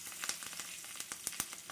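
Whole dried red chillies, cut in two, crackle in hot tempering oil with soft, irregular pops over a faint steady sizzle; quiet and close.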